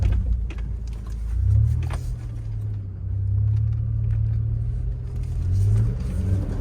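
A 1999 Toyota 4Runner engine driving in 4x4, a low rumbling drone that swells and eases as the throttle rises and falls, heard from inside the vehicle.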